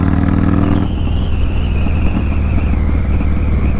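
A car passes on a city street in Grand Rapids, a loud engine rumble and tire roar that swells and shifts pitch as it goes by, with steady traffic noise around it and no talking.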